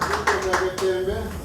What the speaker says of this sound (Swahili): Makofi jameni.